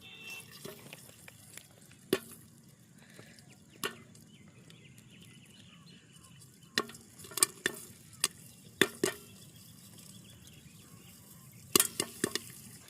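Popcorn popping in a hot pan gives scattered sharp pops over a faint background, sparse at first and then clustering into quick bursts of several pops near the end.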